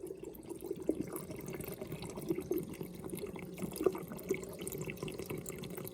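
Water runs steadily through a 600 gph aquarium sump overflow box, recorded right beside it as a close, continuous trickling rush with small gurgles.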